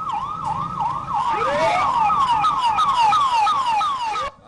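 Sirens of newly launched 108 emergency ambulances departing, several overlapping wailing and yelping tones sweeping up and down loudly and continuously, with vehicle noise beneath and a sudden drop at the very end.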